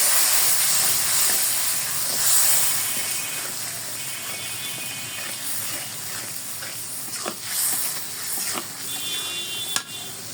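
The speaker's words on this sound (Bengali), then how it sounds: "আমি নাড়াচাড়া দিয়ে দিই।" Meat sizzling and being stirred in a hot pan with ginger and cumin paste, a steady close hiss with occasional scraping clicks of the spoon, without speech.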